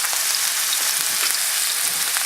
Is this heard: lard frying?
yes